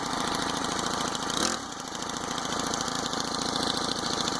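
A Honda GX25 engine on a motorized bike runs hard under load, a loud, close, buzzy small-engine drone that dips briefly about a third of the way through, then holds steady with no talk.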